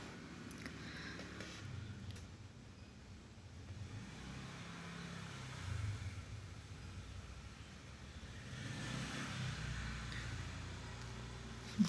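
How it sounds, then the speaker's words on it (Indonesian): A vehicle passes near a tennis court by a house, a faint engine rumble that swells and fades against quiet outdoor ambience. "Bunyi kendaraan."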